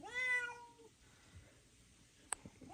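A cat trapped inside a ceiling meows once, a short falling cry at the start, followed by quiet rustling and a sharp tap.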